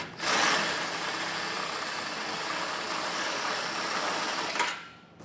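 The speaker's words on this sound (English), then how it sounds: "We'll drill out this hole" A power drill bores out a hole during a Roadmaster Direct-Connect base plate installation on a vehicle. A steady, close, loud whirring grind runs for about five seconds, then cuts off abruptly.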